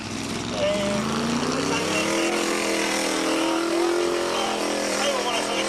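Race cars roar steadily around an oval speedway at a cannonball derby, engines droning loud and continuous with a rising whine, while a commentator talks over the noise.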